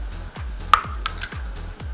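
Eggs cracked into a bowl for brown butter chocolate chip cookie dough, a sharp tap against the rim followed by a few light clinks, close and quiet over faint low background noise.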